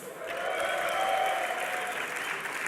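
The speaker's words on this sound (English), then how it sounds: "I want to know how many of you guys are cheering for the Copenhagen Wolves" A full esports arena crowd at a League of Legends semi-final cheers and applauds for the Copenhagen Wolves, a steady, dense roar of clapping and shouting that swells slightly and holds for a few seconds.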